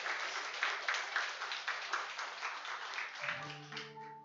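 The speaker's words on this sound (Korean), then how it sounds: "분들은 박수로 축복해 주십시다." A church congregation claps during a Sunday worship service, a moderate burst of many hands that fades as a sustained tone rises at the end.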